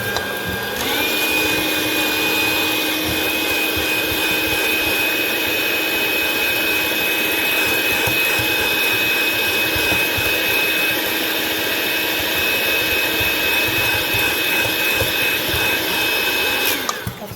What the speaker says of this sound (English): We're going to add the final ingredients and put it through the mixer again.